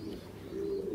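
A pigeon coos at a pigeon-breeding farm, one low, soft, throaty call that swells in the second half of a brief, quiet moment.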